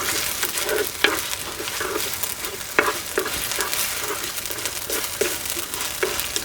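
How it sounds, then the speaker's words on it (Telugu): Chopped tomatoes and green chillies frying in a pan for a cauliflower chicken curry, a constant close sizzle broken by regular scraping strokes of a stirring spoon. "ఈ టమాటాలు మెత్తబడే వరకు 3-4 నిమిషాలు బాగా మగ్గనిద్దాం."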